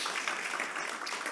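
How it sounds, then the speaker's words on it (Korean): A church congregation at a Friday evening service applauds, a brief, fairly quiet patter of many hands clapping together, steady and even with no voices over it. "하나님께 영광의 박수 올리겠습니다"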